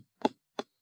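Two quick hollow taps on taut painting canvas, about a third of a second apart, with a resonant drum-like thump and nothing else around them.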